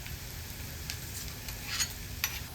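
A cumin and curry leaf tempering sizzles in oil, a faint, steady hiss over a low rumble with a few brief crackles and light taps, no voices.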